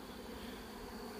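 A few leftover honey bees from a swarm buzz in a faint, steady drone close by, with no speech over it.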